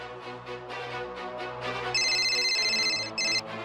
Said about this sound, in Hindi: अभी लगाती हूँ इसकी माँ को फोन।